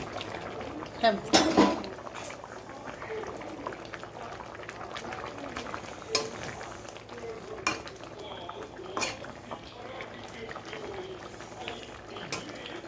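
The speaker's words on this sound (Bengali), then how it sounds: "দেখো এবার ডিমগুলোকে আমি দিয়ে দিচ্ছি" Eggs go into a simmering pot of potato curry with a clatter of pot, lid and utensils, a few sharper knocks near the start and occasional clinks over a steady low bubbling hum.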